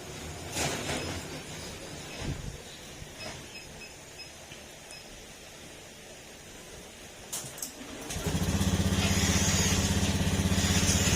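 A Honda Beat scooter engine idles with a steady, buzzy chug, then settles into a louder, even drone for the last few seconds; the engine misfires when hot.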